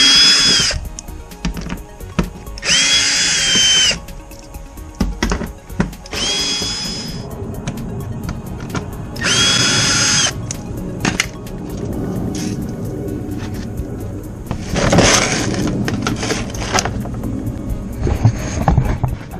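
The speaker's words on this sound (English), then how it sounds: "I'll be removing the under panel screws. So they're 8mm." A power tool zips out 8mm under panel screws on a BMW E90 335i with N54 engine, in several loud close bursts of high whirring separated by clicks, rattles and handling noise.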